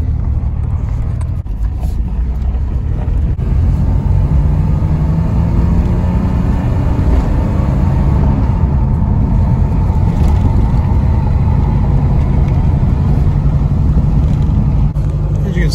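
A 2000 Chevrolet Camaro on a drive, its engine giving a steady, continuous rumble with broad road and motor noise running close and loud for the whole stretch.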